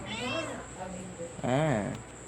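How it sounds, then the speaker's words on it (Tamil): A house cat meows twice, a short call followed by a longer, louder drawn-out meow, close to the listener, with a steady high-pitched hiss in the background. "இந்த பூனை காரன்லாம் இது ஸ்நாக்ஸ் ஐட்டம் ஒன்லி சாப்பிடும்"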